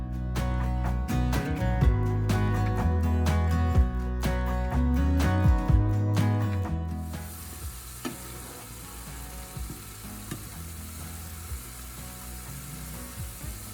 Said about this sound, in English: now I'm gonna add in the green peppers and saute those for a few minutes